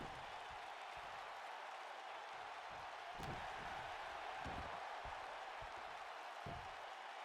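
A loud arena crowd in a WWE 2K wrestling match roars as a steady wash of cheering, with occasional dull thuds and impacts from the ring cutting through.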